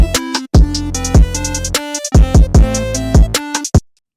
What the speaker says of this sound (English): or an 808 that sounds like this?